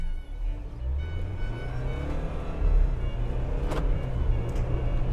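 A 4x4 off-roader, either a Mercedes G-Class or a Jeep Wrangler Rubicon, works its engine to climb out of a water pit. A low, steady engine drone swells briefly with a revving push midway, heard up close without speech.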